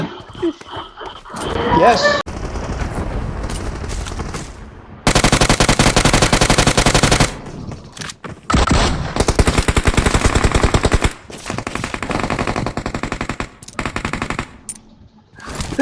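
Gunfire from a DBS shotgun in the PUBG video game, heard as loud, dense bursts of rapid shots in several long stretches separated by pauses, close and harsh.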